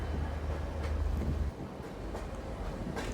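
A train rolling past Karanjol railway station on the Dudhsagar route, a continuous low rumble and rattle heard from aboard, loud and steady with faint periodic clacks.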